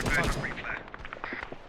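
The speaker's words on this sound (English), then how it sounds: "something's shooting this close" Gunfire in the Arma 3 video game during a Falklands War scenario: a dense burst of close shots at the start, then scattered distant pops and cracks following.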